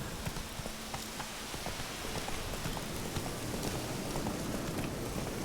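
Horse hooves clip-clop steadily in The Witcher 3 as a rider moves along, a continuous near rhythm of hoof strikes over a dense, rain-like background wash.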